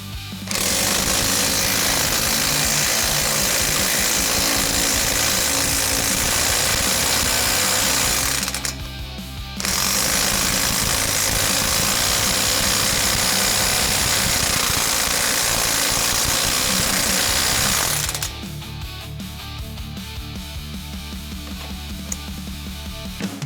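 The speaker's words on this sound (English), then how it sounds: "And then you'll take the 25mm socket on your impact" An impact wrench with a 25mm socket hammers at a Ford Mustang hub nut, a loud continuous rattling roar in two long bursts split by a brief pause, then dropping to quieter workshop noise for the last few seconds.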